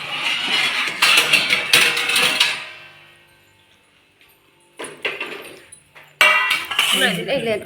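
Plates and cutlery clink and clatter at close range in a home kitchen, in two bursts of handling separated by a quiet gap, with people talking around the sounds.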